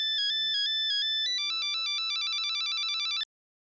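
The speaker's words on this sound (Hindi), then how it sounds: "मोबाइल की रिंग बजी" A mobile phone ringtone chirps out a repeating electronic melody, loud and close, with a brief voice underneath before the ringing speeds into a steady rapid pattern and then cuts off abruptly.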